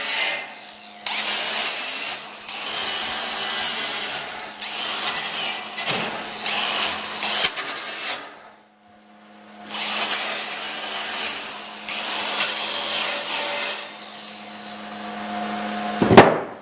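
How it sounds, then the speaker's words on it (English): A small battery-powered grinder runs a wire wheel over weld slag on a trailer, giving a loud, steady, close-up whirring scrub that drops out briefly partway through and then resumes. "Little battery powered grinders work great for running a wire wheel."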